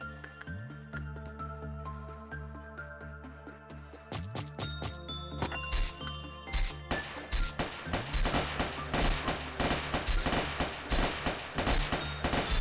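Gunfire from the video game Lobotomy Corporation: rapid, crackling bursts of shots build into a dense, relentless volley over a tonal game soundtrack.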